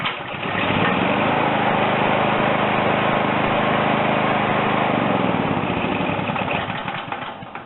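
A Generac GP5500 generator's engine catches after a short pull and settles into a loud, steady running drone close by.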